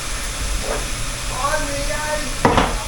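About a tablespoon and a half of butter hits a hot pan, sending up a soft steady hiss with a sharper sizzling burst near the end, while a person talks faintly nearby.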